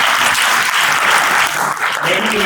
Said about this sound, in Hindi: और सभी तालियां बजाएंगे, जोरदार तालियां।